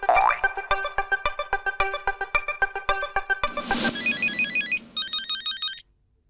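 A phone ringtone plays while a call is placed, a bright, bouncy melodic tune of rapid repeated notes, followed by higher electronic beeping tones that cut off abruptly, with no talking.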